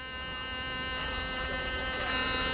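An electric toothbrush fitted to a bamboo skewer buzzes against tomato flowers in a garden, giving a close, continuous, steady drone like a bee's hum with no talking.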